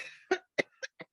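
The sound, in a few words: cough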